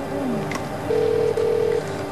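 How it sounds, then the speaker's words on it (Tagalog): A cellphone rings with two steady electronic tone bursts in quick succession, moderately loud over a low indoor background hum. "Jenny, tumutin na dati yung cellphone mo"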